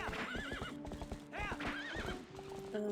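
Horse hooves clip-clopping in a steady gallop rhythm with repeated loud neighs and whinnies from a horse in the video game The Legend of Zelda: Twilight Princess HD, with no talk over it.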